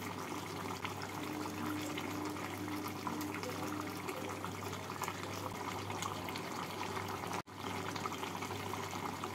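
Pabda fish curry with potatoes and slit green chillies simmers in a pan, a soft, steady bubbling close up.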